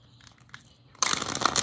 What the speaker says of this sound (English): I'm going to do 3 shuffles here.